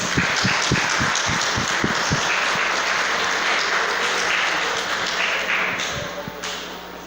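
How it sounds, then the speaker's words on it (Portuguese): A church congregation applauds a couple celebrating 48 years of marriage, starting with several loud rhythmic unison claps, then breaking into scattered ongoing clapping that slowly fades, with a murmur of voices under it. "Vamos bater palma ao casal."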